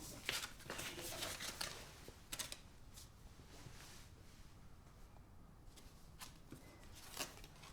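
Cards shuffled for a card reading, a soft quick riffling and rustling with a few crisp snaps, close and fairly quiet, in short bursts separated by near-silent pauses.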